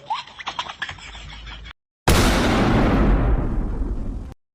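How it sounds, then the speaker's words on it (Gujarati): A sudden loud blast with a long roaring, crackling decay follows a stretch of scratchy handling noise, like a large firecracker going off close by. "બહાર જઈને જોજે કોણ ફટાકડા ફોડે છે"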